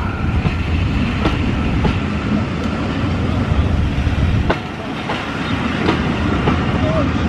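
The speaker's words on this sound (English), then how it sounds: "And will all those coaches clear the crossing? There's the other loco." Heritage railway coaches rumble steadily past the station level crossing at Watchet on the West Somerset Railway, close and loud, with regular clicks from wheels crossing rail joints and a brief dip midway.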